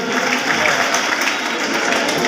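Loud, dense applause from a large audience at a Teacher's Day award ceremony fills the room in a continuous roar of many hands, with no pauses.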